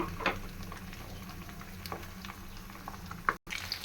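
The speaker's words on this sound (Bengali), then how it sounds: "আমি আরেকটা সাইড উল্টিয়ে ভালোভাবে ভেজে নেব" Pabda fish frying in hot oil in a pan, a steady soft bubbling crackle with scattered pops, moderately close and continuous, with no talking.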